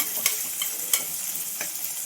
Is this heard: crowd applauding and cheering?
no